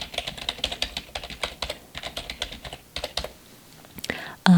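Rapid, irregular tapping on a computer keyboard, close and fairly soft, with short pauses between bursts and a brief louder knock at the very end; no talking over it.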